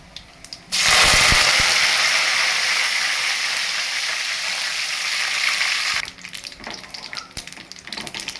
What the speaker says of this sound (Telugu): ఇప్పుడు మనం వంకాయలు అనేవి ఆయిల్లో వేసుకున్నాము